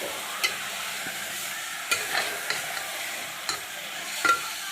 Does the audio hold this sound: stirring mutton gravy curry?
yes